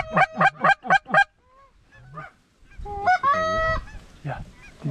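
Specklebelly geese honk in a rapid burst of five or six loud, close calls during a waterfowl hunt in North Dakota, followed by softer, higher calls and a sustained, wavering honk, with no talking.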